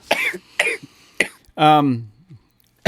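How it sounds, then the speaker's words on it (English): Short, harsh coughs from a podcast host come in quick bursts near the start, with a voice talking between and after them. "Jake's gonna cough. He can't help himself."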